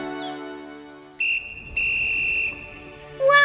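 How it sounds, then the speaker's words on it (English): A loud, piercing steam-style whistle sounds in two blasts, a short one then a longer one, followed by a brief high squeal. "Give it a whistle, Percy."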